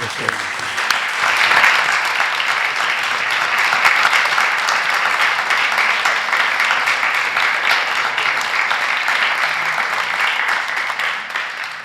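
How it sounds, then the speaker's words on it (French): Long, steady audience applause after a lecture on peace through non-violence, a dense, even roar of many hands clapping that holds for about twelve seconds without a break. "je vous demande vraiment d'applaudir vraiment Jean-François"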